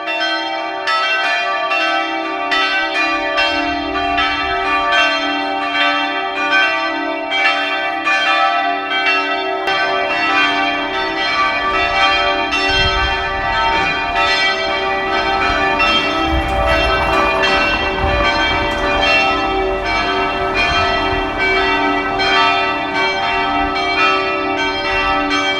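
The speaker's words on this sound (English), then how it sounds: "the sound of these harmonious bells are bouncing around" Church bells ring out in a full, harmonious peal in Vilnius Old Town, overlapping tones clanging steadily and echoing for a long stretch with no voices.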